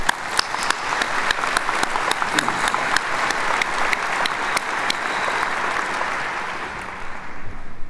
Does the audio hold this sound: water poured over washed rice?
no